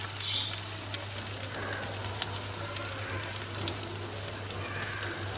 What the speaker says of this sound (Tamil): ஸோ நல்லா கோல்டனாக ஃப்ரை ஆகட்டும்.